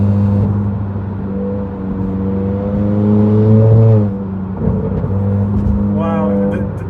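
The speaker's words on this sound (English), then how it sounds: "The turbo, the burble sound, the turbo sound is amazing, guys." From inside a 2019–2020 Honda Accord Sport 1.5T with an intercooler resonator delete and the windows down, the turbo engine drones steadily, swells as it builds, then eases off with a brief whir. Wind and road noise run underneath.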